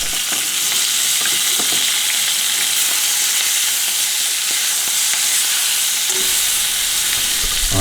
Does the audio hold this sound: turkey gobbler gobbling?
no